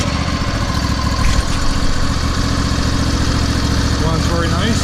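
A John Deere LA145 lawn tractor engine runs at a steady, loud idle close by, a continuous mechanical drone with faint rattles throughout.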